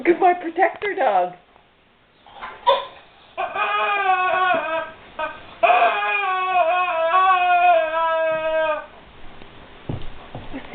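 A guard dog whimpers over a rubber duck squeaky toy, making long, high, wavering whines in several drawn-out bursts with short gaps, close and fairly loud.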